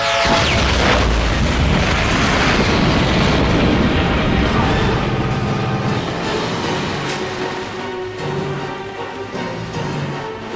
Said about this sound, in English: Alfred, detonate the Batmobile.